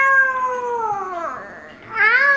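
A young child imitates a cat's meow with a long drawn-out falling cry, then rises into a second brief meow, close and clear with no other sounds.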